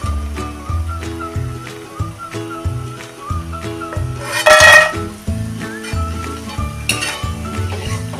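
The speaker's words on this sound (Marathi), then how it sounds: "हे मटरी आपली तळून होत आली आणि 1-2 मिनटं आपण असे हलवून काढून घ्यायचे" Gujarati masala mathri frying in hot oil and being stirred, giving a loud, continuous sizzle up close, with rhythmic metallic scraping and clinks of a utensil against the pan and a brief louder burst midway.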